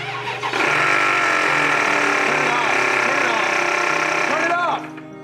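A Range Rover engine runs loudly and steadily with an abnormal, harmonically rich whine and rattle layered over it, cutting off abruptly near the end.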